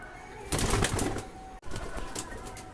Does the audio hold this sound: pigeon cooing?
yes